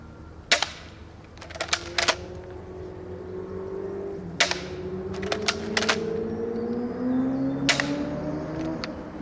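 Crossbow bolts are fired into a target layered with a t-shirt and leather. Several sharp, close snaps and thuds arrive singly and in quick clusters, spread over about nine seconds, above a faint steady hum.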